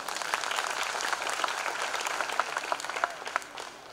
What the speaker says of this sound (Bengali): জোরে একবার প্রভুর জন্য করতালি দিই।